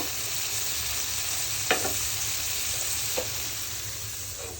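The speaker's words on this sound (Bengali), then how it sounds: "এখন আমি রান্না করার জন্য ঝোল দিয়ে দিব" Prawns in mustard sauce sizzle steadily in a pan after broth is added, an even, loud frying hiss with a couple of brief spoon clinks, close and with no talking.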